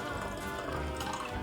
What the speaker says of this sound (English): now we're gonna strain out the infused booze. Just pour that in here.